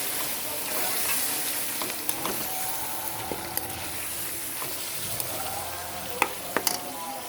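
Chicken karahi being stirred in a pan as a bowl of yogurt is mixed in, with a steady close sizzle of frying and scraping stir strokes, a few sharp clinks near the end, no talking.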